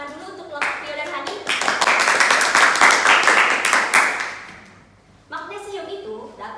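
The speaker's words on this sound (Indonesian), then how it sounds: "mari kita beri tepuk tangan dulu" Schoolchildren in a classroom clapping for a student group, a loud burst of rapid hand claps lasting a few seconds, with a teacher speaking before and after.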